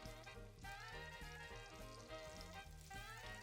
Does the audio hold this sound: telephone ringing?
no